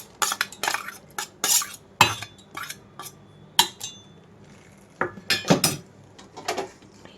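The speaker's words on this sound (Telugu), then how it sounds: "ముందుగా నేను ఇప్పుడు వేయించి పెట్టుకున్న పప్పులు అలాగే పచ్చిమిరపకాయలు మిక్సీ జార్లోకి వేసేసుకుంటున్నాను" Fried lentils and green chillies tipped into a mixer jar, a series of close clinks, clatters and scrapes of a spoon against the jar, spaced irregularly with quiet gaps between.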